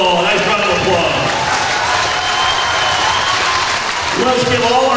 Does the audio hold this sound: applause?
yes